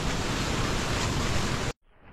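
Steady broadband wind rushes loudly along a forest path to Mahabaleshwar temple in monsoon weather, then cuts off abruptly near the end, leaving a faint low hiss.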